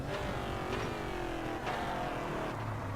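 Race car engine in TOCA Race Driver 3, heard from the cockpit on a hot lap around Barbagallo: a steady, loud engine drone with rising pitch sweeps as gears climb, filling the whole stretch with no voices.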